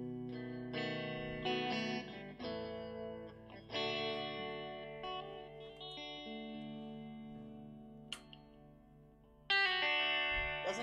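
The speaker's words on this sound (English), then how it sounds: "Doesn't that Telecaster sound good?" A Fender Telecaster electric guitar is played through effects such as chorus and distortion, with sustained chords and picked notes ringing out in a clear, continuous phrase and no talking.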